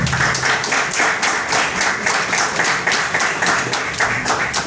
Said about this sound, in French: Je m'applaudis très fort, s'il vous plaît.